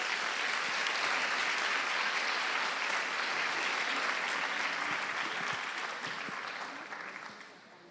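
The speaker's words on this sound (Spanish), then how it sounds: "Un aplauso, por favor." Audience applause welcoming a speaker before a talk on neurological foundations, a full, continuous roll of many clapping hands that stays even for most of its length, then thins and fades near the end.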